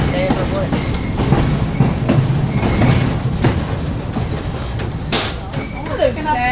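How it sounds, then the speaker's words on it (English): A diesel locomotive train passes at the Ironworld Minnesota Discovery Center, rumbling close by with rhythmic clickety-clack of wheels over rail joints and brief metallic squeals, while people talk faintly underneath. "Diesel locomotive."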